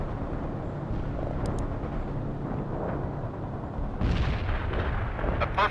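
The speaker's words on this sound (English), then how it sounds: "A perfect artillery unit hit." Artillery shells landing in the real-time strategy game World in Conflict, a dense rumbling barrage of distant blasts that swells into a louder, closer burst of explosions near the end.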